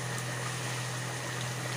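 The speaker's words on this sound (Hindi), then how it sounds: "व्यूअर्स पानी में उबाल आ गया" Steady bubbling of water boiling with rice in a pot for pulao, a continuous low rumble with hiss, close and moderately quiet.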